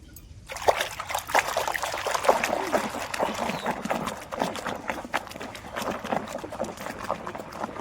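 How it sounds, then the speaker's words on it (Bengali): Water trickles and splashes in a basin as shoes are put in to soak for washing, a close, busy run of small splatters and dribbles starting abruptly and continuing steadily without speech. "আজকে জুতোটাও ধুয়ে দেবো চলো ভেজাই"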